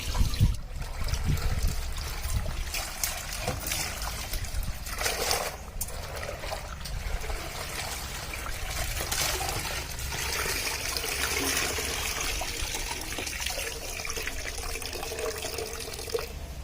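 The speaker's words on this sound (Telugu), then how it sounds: "ఇలాగే మిగతా శారీస్ని కూడా వేసుకుంటాను, అంటే నీళ్ళలో వేసుకుంటాను." Water splashes and trickles as silk sarees are dunked and moved around in a tub, with sloshing bursts early and steady dribbling afterward.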